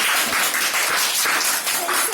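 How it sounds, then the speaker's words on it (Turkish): Second-grade classroom applause for finalists in a letters-to-words contest, a steady, loud patter of many children's hands clapping together, with voices mixed in. "Arkadaşlarımıza bir moral alkışı verelim."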